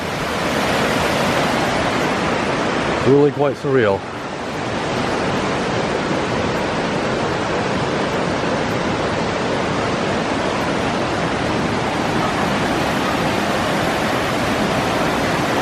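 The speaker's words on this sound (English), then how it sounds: "This is the time to see this place because there's so much raging water." Loud, continuous roar of raging floodwater rushing through Clifton Gorge in the nature preserve, a dense steady wash with a short burst of talk over it early on.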